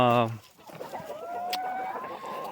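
A Black Americana rooster gives a short, strained crow while hens cluck and fowl chatter around it in the background, with a brief voice at the very start.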